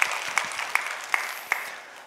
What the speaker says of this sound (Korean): 우리 박수 한번 해주시면 고맙겠습니다.